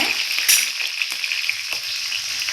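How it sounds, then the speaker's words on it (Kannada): Green chillies fry in hot oil with cumin, giving a bright, steady crackling sizzle up close, punctuated by a few light clicks of stirring. "ಇವಾಗ ಹಸಿಮೆಣಸಿನ್ಕಾಯಿ ಹಾಕ್ಕೊಂಡ್ಬಿಟ್ಟು ಸ್ವಲ್ಪ ಬಾಡಿಸ್ಕೊಂಬಿಡೋಣ"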